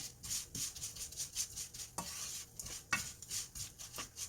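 A spatula stirs stir-fried anchovies coated in oligosaccharide syrup in a pan over low heat, a quiet rhythmic scraping and sticky shuffling with faint sizzle, no voices.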